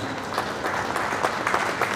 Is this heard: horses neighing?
no